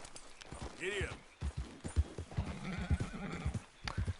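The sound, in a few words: horse galloping and neighing in a video game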